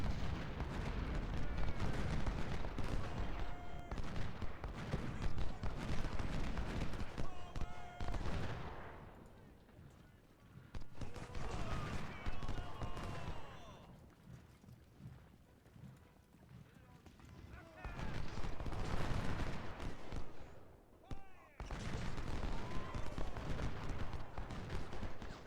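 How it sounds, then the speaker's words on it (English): Musket volleys and artillery in the Civil War strategy game Ultimate General, a dense, continuous crackle of distant gunfire in loud bursts separated by brief quieter lulls. "We're shooting at 7th Maine"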